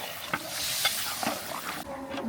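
Potato pieces are stirred into goat meat in a pot: brief scraping strokes and soft knocks of a spoon over a gentle sizzle, close up and without talk.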